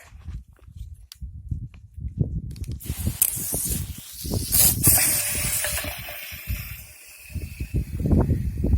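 Water gushes into a garden sprayer tank outdoors in a vineyard, a steady hissing spray starting a few seconds in and running continuously, loud and close, with scattered low thumps and handling noises underneath.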